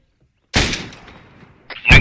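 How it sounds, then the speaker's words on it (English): Grenade launcher in the video game Arma 3 fired downrange on a training range, a sharp loud report followed by a fading rumble, then a second blast starting about a second later, nearby with no talk. "go ahead and fire a couple of rounds downrange. This is a grenade launcher."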